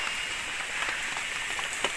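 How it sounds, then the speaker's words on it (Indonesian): Heavy rain falls steadily around a treehouse, a continuous hissing wash with scattered nearer drops pattering on surfaces, no voices. "hujan."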